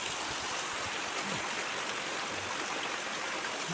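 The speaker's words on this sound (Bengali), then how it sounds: "এই পানিটা আমার মনে হয় তল দিয়েই চলে যাচ্ছে" Rainwater from several days of rain runs steadily through a hole beside and beneath a house at Matikona bazar, making a constant, full, rushing wash like a small stream with no pauses.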